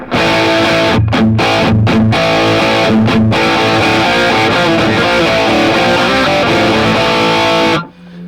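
Distorted electric guitar through a Valeton GP-100 multi-effects pedal, playing continuously with heavy effects, loud and dense, with a few brief choppy gaps early on before it cuts off near the end.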